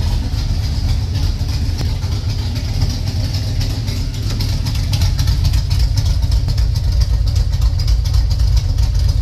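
A 1996 Camaro Z28 engine idles steadily after running a couple of minutes, a loud, even low rumble with a constant mechanical chatter and no change in pace.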